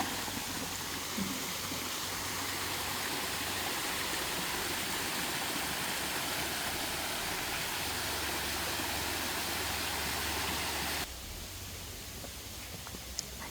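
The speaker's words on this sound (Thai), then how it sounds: "เดินมาข้างหลังก็จะเจอน้ำตกนะคะ" A waterfall at the Naka cave shrine in Thailand gives a steady, dense roar of rushing water that fills the whole space. It stays constant for several seconds, then drops to a quieter, thinner rush near the end.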